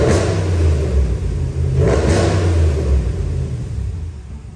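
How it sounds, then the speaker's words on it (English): A 2020 RAM 1500 Rebel pickup truck engine revs up twice in quick succession, a loud throaty exhaust roar swelling and falling back to a rumbling idle, close to the microphone. "appreciate that beautiful sounding exhaust with a couple of revs as well"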